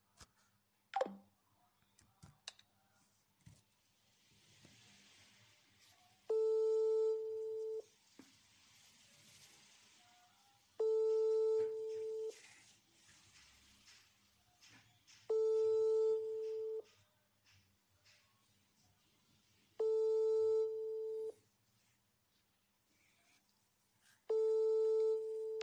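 Telephone busy signal from a failed call connection, five evenly spaced bursts of steady repeating tones, each around two seconds long, with faint background noise and brief low murmurs between them.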